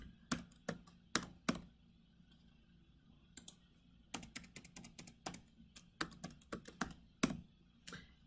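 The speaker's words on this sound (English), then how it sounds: "Now I'm just going to copy, Control C, go on the next line, Control V" Close, crisp computer keyboard keystrokes come in short irregular bursts of clicks with brief pauses between, the quick taps of copy and paste shortcuts, with no voices.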